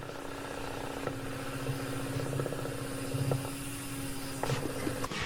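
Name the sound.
wood lathe turning segmented bowl at 900 RPM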